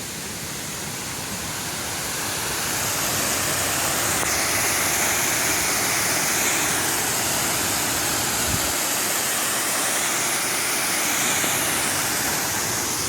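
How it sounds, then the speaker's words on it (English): Waterfall on a hiking trail near Thurmond, West Virginia, a steady broadband roar of falling water that holds continuous and fairly loud throughout, with no voices. "A beautiful waterfall."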